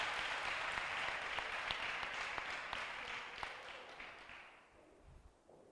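An audience claps for a primary school teacher at a school competition event, dense steady clapping that gradually thins and fades toward the end.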